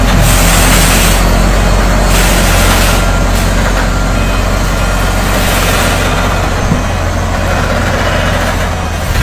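A heavy truck manoeuvres to park on a dusty site, its engine rumbling loud and steady at close range throughout, with faint intermittent higher tones above the drone and no talking.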